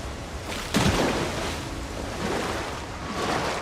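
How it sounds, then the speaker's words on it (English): A waterfall in the fantasy game Avowed gives a dense, steady rush of falling water, broad and close, with a brief louder burst near the start and no talking. "Nothing behind the waterfall."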